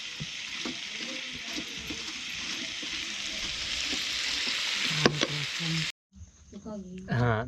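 Onions and tomatoes fry with salt and spices in a hot pan, giving a steady, close sizzle with a few stirring scrapes. The sizzle breaks off near the end and a voice talks.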